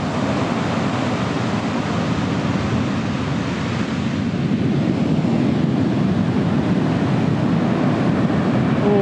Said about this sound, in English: the waves are pretty violent today